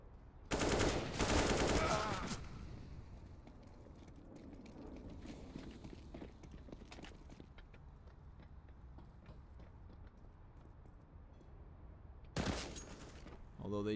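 Counter-Strike gunfire on the Overpass map: a loud rapid burst of automatic fire at the start, a long stretch of quieter game ambience with scattered small clicks, then another sharp burst near the end.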